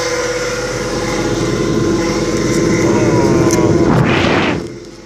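A workshop extractor fan built from scrap parts on an articulating arm, switched at the breaker, gives a loud, close, steady motor hum and rushing air that swells slightly, then dies away in the final moments.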